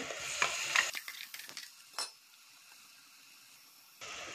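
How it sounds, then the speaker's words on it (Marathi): Ground spice masala sizzles in a hot pan while a spoon stirs and scrapes for a couple of seconds, then the sizzling fades to a low quiet hiss. "तर आता आपण हे सगळे मसाले छान परतून घेणार आहोत।"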